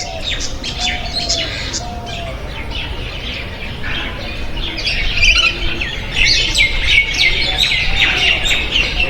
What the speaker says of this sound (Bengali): পাখির শব্দ শুনতে পাচ্ছি সেগুলো দেখাবো আপনাদের